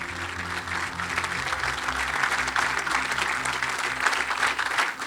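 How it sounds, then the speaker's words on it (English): Steady, dense audience applause fills the room at a golf park event, a continuous roar of many hands clapping at even loudness with no talk over it. "a special round of applause for Seth Wall, ladies and gentlemen."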